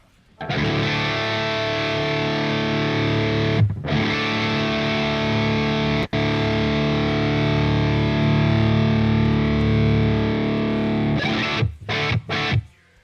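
Heavily distorted electric guitar through an amp simulator, chords ringing out loud and sustained, with a few brief stops and quick chugs near the end.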